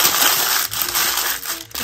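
A sheet of parchment is crumpled by hand while fudge is being made, giving close, loud crinkling and rustling bursts with brief pauses between squeezes.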